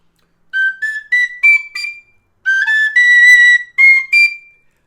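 A Compass High D tin whistle plays two bright phrases of rising notes climbing toward the top of the second octave, clear and close, with a short pause between runs and no talking.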